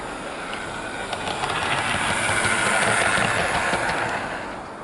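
A Heljan Metropolitan Bo-Bo model electric locomotive rolls steadily along its track with a continuous hissing whir and faint rhythmic clicking, moderately quiet and unbroken.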